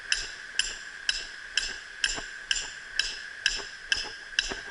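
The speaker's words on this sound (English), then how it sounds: "Take your hatchet then, keep the stake the rest of the way in the ground." A hatchet's flat side pounds a stake into the ground for a raccoon dirt-hole trap set, about ten sharp, evenly spaced blows ringing close and clear with nothing else over them.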